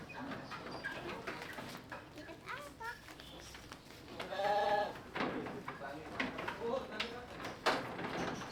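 Several sheep bleat close by while they rest during transport. The calls overlap in bursts, with a few louder ones standing out. People talk at times over the bleating.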